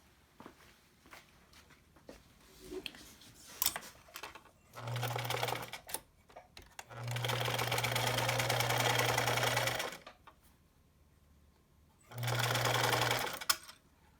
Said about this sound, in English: Let me sew that for you.